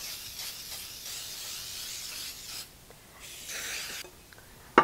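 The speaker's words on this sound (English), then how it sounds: "We're gonna spray it with some cooking spray." A soft aerosol hiss of cooking spray, several short bursts close by with brief pauses between, followed by a small click at the end.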